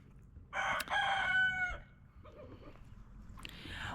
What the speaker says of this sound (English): We have newbie roosters.